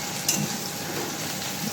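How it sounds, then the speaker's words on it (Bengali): Garlic and onion fry for a Sunday meat curry in a home kitchen, giving a steady, close hiss of sizzling oil with a faint clink near the start and no talk. "এখানে রসুন পেঁয়াজ ভাজা হচ্ছে।"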